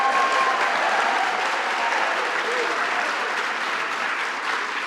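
An audience applauds steadily at a political forum on voting rights, with dense, sustained clapping from a sizable crowd that stays loud throughout and fades only slightly at the end.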